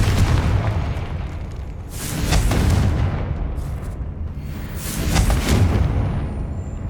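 Blasting-spell explosions in the Hogwarts Legacy video game, with heavy booming bursts that roll into sustained rumbling blasts, loud and close with no talk.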